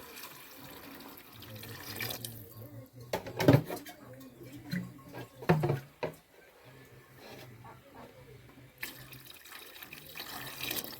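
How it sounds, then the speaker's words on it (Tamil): Water splashes and pours into a pot of country duck curry in a couple of short gushes, with a quiet voice talking and faint background hum. "நம்ம வேணுங்கிற தண்ணி வந்து நம்ம ஊற்றிக்கலாம்"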